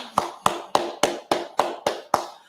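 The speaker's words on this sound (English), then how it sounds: "clap it up" Hand claps, eight sharp, evenly spaced claps in a steady rhythm, close and fairly loud, with no talking.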